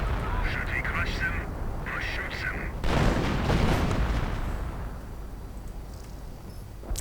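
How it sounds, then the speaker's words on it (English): Artillery fire in a WWII strategy video game: a dense, rumbling barrage of booms and explosions running throughout, with some louder bursts in the middle. "This is an absolutely insane duel of artillery."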